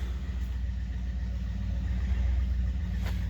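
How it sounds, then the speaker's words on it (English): A boat engine being tuned up runs as a steady, low, rumbling idle in the background near a river, with one brief faint click. "Someone is tuning up their boat"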